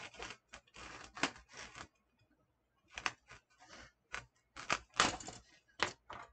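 A serrated knife cuts in quick, sharp sawing strokes, close and crisp, in clustered bursts broken by a silent pause of about a second.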